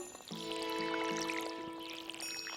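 Watering can being filled with water in the Stardew Valley farming video game: a bright, steady pouring and splashing effect over a couple of seconds, layered with soft game background music.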